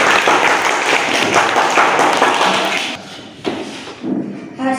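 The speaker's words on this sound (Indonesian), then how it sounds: "Tepuk tangan untuk" Applause from a classroom audience during a student group presentation, a dense burst of clapping that fills the first three seconds and then thins into scattered claps and light shuffling.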